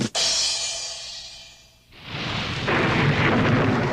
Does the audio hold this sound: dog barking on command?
no